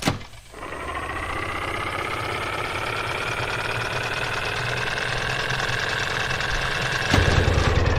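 A vehicle engine in the video game Escape Memoirs catches after a brief startup burst and settles into a steady, even idle hum. It grows slightly heavier near the end, with no voices.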